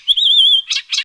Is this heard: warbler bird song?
yes